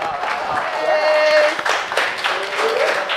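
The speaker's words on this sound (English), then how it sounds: "Clap it up. Clap it up." Studio audience and hosts clapping at the start of a hip-hop podcast episode, a dense spread of claps mixed with voices and cheering over several seconds.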